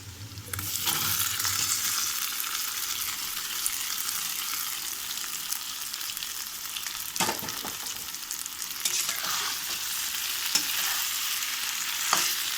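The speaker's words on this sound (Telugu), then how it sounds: "ఇప్పుడు మనం ఈ అరటికాయ ఇందులో వేసేసుకుందాము. బాయిల్ చేసుకున్నాం కదా, వేసుకొని ఫ్రై చేసుకోవడమే అండి" Boiled raw banana pieces frying in oil in a pan with onions, giving a steady soft hiss of sizzling with a few sharp scrape and stir clicks, moderately quiet and continuous.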